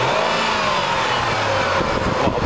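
Rover 75 with a 2.5-litre KV6 V6 engine, 177 bhp and automatic, runs close up with a steady mid-pitched hum and slight rise in revs near the end.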